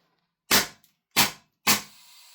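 A Wolverine-powered XM177 airsoft rifle fires three sharp, close, loud shots about half a second apart, each a crisp pop with a short decaying tail and no voices.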